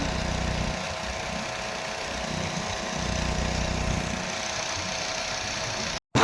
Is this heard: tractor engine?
yes